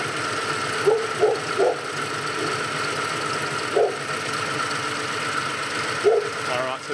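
A car engine idles steadily on all six cylinders after its ignition leads are reconnected, a smooth continuous hum with a few brief soft knocks or clicks standing out over it.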